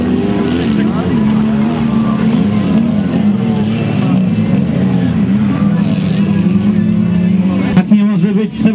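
Race cars in a demolition derby rally in Biała Podlaska, engines droning loud and steady throughout with a commentator talking over them.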